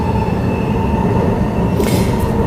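A passenger train on the Mandurah line in Perth runs between stations, a steady loud rumble of wheels and carriage noise heard from inside, with a brief hiss of squeal near the end.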